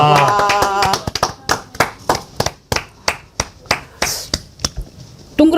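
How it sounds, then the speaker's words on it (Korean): A small group clapping along in a Korean talk broadcast studio, sharp individual claps in a loose irregular rhythm after a brief opening of voices, close and fairly loud. "박수 한번 칩시다"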